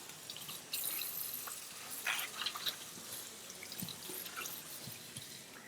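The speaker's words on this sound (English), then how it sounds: "put it under the sink to wash them so we can start juicing right again" Kitchen sink tap water runs and splashes faintly while greens are washed for juicing, with scattered drips and light clatters over a quiet background.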